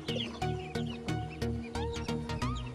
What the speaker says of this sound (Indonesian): Bebek hibrida Peking Kawi.